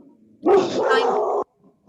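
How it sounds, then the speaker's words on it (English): A dog gives a single loud, close bark lasting about a second, with faint quieter sounds just before and after. "My dog got everybody going."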